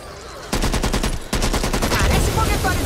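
Loud rapid gunfire comes from the Back 4 Blood video game. Automatic bursts rattle in quick pulses, break off briefly and then resume in dense, overlapping shots close up.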